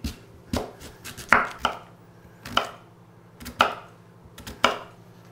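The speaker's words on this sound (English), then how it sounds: "Sweet potatoes are always so difficult to cut." A knife cuts unpeeled sweet potato into half-inch cubes on a board, giving about eight sharp, close thuds at an uneven, deliberate pace with quiet pauses between them.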